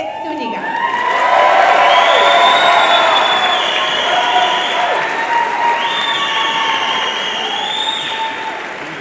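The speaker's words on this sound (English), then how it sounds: "Ladies and gentlemen, a round of applause for the Texas Academy of International Express 2016 graduating" Sustained applause with cheering and whoops from a crowd at a high school graduation ceremony for the Texas Academy of International and STEM Studies 2016 class, swelling after the first second and continuing steadily to the end, with voices mixed in.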